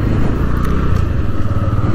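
A 2023 TVS Radeon 110 E20 motorcycle with a 110 cc engine runs close by, a steady loud idle chug with a faint clatter as it is put into first gear.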